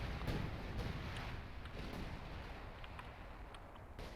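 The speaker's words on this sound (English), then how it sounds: "Sexton firing there, concentration barrage firing there." Artillery barrage from self-propelled guns and concentrated fire in a World War II real-time strategy game, a steady dense rumble of booms and distant blasts running continuously throughout.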